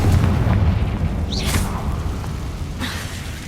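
A loud, rumbling explosive blast from the Confringo spell in Hogwarts Legacy, a deep sustained boom with sharp crackling bursts flaring on top, with no talking.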